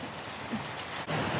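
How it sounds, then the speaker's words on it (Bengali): Steady rain falling on and around a rooftop surrounded by green trees, a dense even patter that stays constant with no voices. "কত সুন্দর বৃষ্টি হচ্ছে"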